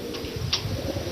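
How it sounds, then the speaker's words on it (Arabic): Homing pigeons of a long-distance racing line coo softly in a loft, low rounded murmurs under a steady background hiss, with a faint tick partway through. "يعني الحمام أنواع،"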